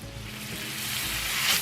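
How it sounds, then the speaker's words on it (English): Honey garlic pork roast sears in a hot pan, a steady close sizzle and hiss that swells slightly toward the end, with no talking. "Getting it seared off now"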